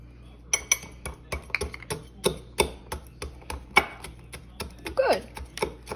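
A spoon mashes Oreo cookies inside a mug, giving a string of sharp, irregular clinks and taps against ceramic, close and fairly quiet, with a faint voice now and then.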